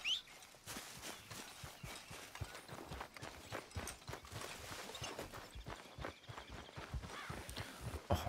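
Rhythmic horse hoofbeats in Red Dead Redemption 2 clip-clop steadily at a trot, close and fairly loud, with a game soundscape behind them and no talking.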